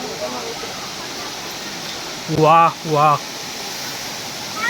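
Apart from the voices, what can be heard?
Murga Mahadev waterfall, water falling about 30-40 feet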